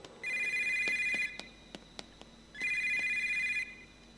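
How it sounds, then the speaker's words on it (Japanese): A telephone rings in the Yomawari 3 video game, two bright electronic ring bursts separated by a short pause, with faint clicks and taps in between. "なんか電話が鳴ってるよ。"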